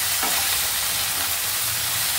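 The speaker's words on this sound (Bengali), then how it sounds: "একটু লাল লাল করে ভাজতে হবে।" Small cauliflower pieces fry in hot oil in a pan, a dense steady sizzle heard up close with soft scraping from stirring.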